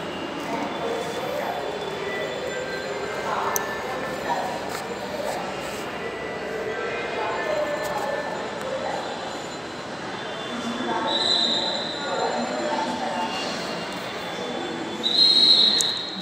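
A metro train at Farmgate station in Dhaka rumbles along steadily with rising squeals of wheels on rails, loudest near the end, under a platform hum and a few voices.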